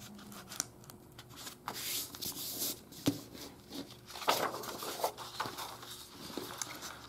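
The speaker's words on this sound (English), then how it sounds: "fold this in half as well and cut this down the middle" Scissors snipping through folded paper for a kids' sculpture lesson: a series of faint, close crisp cuts and rustling paper handling, with no talk.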